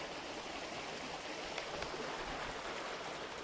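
Outdoor stream water flowing steadily, a soft continuous broadband rush with faint scattered splashes, quiet and even throughout with no voices.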